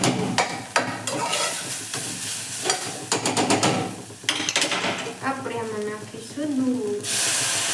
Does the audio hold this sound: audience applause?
no